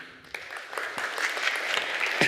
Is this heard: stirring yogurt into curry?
no